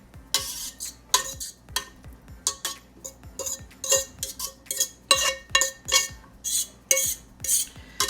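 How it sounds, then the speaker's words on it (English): Dry spaghetti noodles laid into a 9x13 baking dish: a steady series of sharp, brittle clicks and rattles as the hard strands drop and tap against the dish, close and clear with no talking. "go ahead and put our spaghetti noodles into our baking dish"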